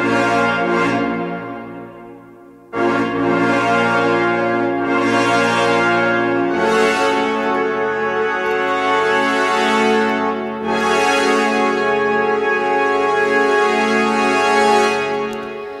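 Sampled orchestral trumpets hold long sustained notes with swelling dynamics, loud and full, playing a slow chordal line with no voices.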